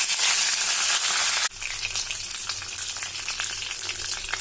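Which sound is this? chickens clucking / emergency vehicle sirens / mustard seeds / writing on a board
mustard seeds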